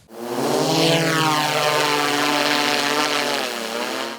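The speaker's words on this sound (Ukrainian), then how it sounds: "Ми включаємо путь, включаємо дрон." A small drone powers on and its propellers spin up, a loud, steady, close buzzing whine whose pitch sweeps and then settles into a sustained drone, with no talking, at a children's drone operator school.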